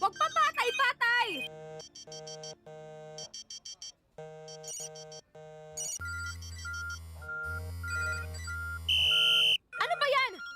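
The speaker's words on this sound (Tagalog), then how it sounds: "Di ba usapan pag-practice, naka-silent ang telepono?" A mobile phone ringtone plays a bright electronic melody in repeated bursts during a basketball practice, loud and close, with excited voices shouting before and after the ringing.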